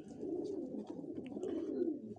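Pigeons, including a narrow-beaked hen from a batch of eighteen birds sent from Dubai, coo steadily in low rolling phrases with soft overlapping calls close by, continuous throughout.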